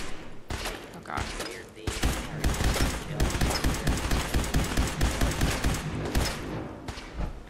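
Rapid automatic gunfire rattles through a Fallout 4 battle in a dust storm, bursts of dense, loud shots after a few isolated cracks, with voices talking over parts of it.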